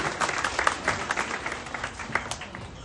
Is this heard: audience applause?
yes